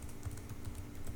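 Quick, light keystrokes on a computer keyboard tap out a short command in a steady flurry, close and fairly quiet, with no voices.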